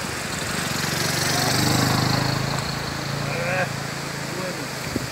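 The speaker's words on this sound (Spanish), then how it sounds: "Ahí viene, esto es una moto" A motorcycle engine drones on a bridge, its steady mid-pitched hum swelling as it draws nearer and then easing off, with faint voices in the background.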